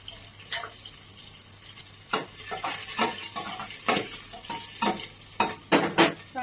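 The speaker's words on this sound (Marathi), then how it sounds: "आता कढीपत्ता आणि लसूण मिरच्या टाकून घेतल्या आपण।" Curry leaves, garlic and green chillies crackle in hot oil for kadhi, with a soft sizzle under repeated sharp scraping stirs and clinks of a spoon against the pan.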